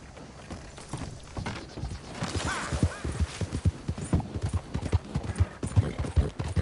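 Horse hooves clip-clop at a steady walking pace in the video game Red Dead Redemption, growing louder as they approach, with a faint whinny partway through.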